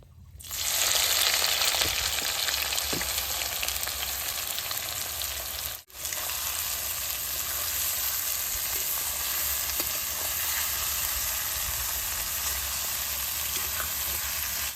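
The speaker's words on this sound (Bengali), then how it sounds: "মরিচটা তেলে ভাজা হয়েছে, কলার ফুলটি দিয়ে ভাজা ভাজা করুন।" Dried red chillies and banana flower sizzling steadily in hot oil for a banana-stem pickle, a loud continuous fry broken by one brief dropout, with occasional faint stirring clicks and no talking.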